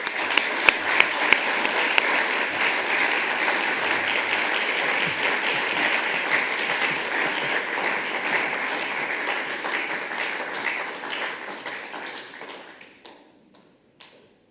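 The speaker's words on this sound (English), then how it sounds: "So please, a round of applause for alumni, for the faculty, for friends and family, and most importantly, for yourself." Sustained applause from a graduation ceremony audience for an Executive MPA class of 2021, steady dense clapping that fills the room for about twelve seconds before tapering off into a few scattered last claps.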